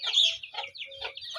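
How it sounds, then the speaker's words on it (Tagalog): Backyard farm chickens clucking nearby in short repeated bursts, a few quick calls close together with no one speaking. "Kaya yung ating mga alagang manok din, yan na din po sila."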